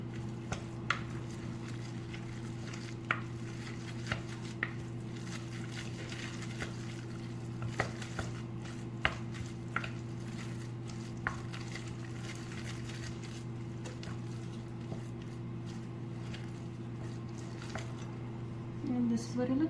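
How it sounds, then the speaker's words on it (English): A spoon stirs a filling of spinach, feta cheese, egg, salt and black pepper in a bowl, giving soft, irregular wet squishes and light scrapes, quiet over a steady low background hum. "I'm just going to combine all these ingredients together."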